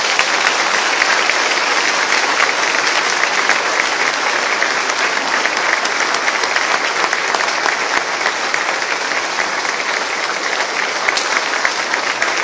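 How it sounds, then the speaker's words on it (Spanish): Loud, dense applause fills a church during a Mass celebrating a priest's 25th anniversary of ordination, a steady unbroken roar of many hands clapping for over twelve seconds with no other sound rising above it. "al Padre Rodolfo le damos un fuerte aplauso."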